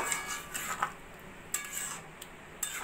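A pan of ghee and garam masala stirred into vegetarian khichuri, faint spoon scrapes and light metallic clinks tapping out a few sparse strokes against the pot.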